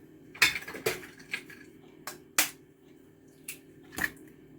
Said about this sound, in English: I'm whisking my eggs.